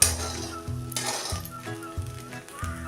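Sabudana khichdi with steamed boiled potato stirred in a pan, with a soft sizzle under repeated scraping and light metallic clinks at a steady rhythm, close and fairly quiet.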